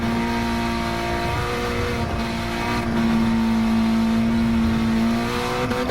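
Honda Civic Type R FK8 lapping a race track, its engine droning loud and close in a steady high-revving tone that holds near the limiter through the run, with slight pitch dips between pulls and road noise underneath.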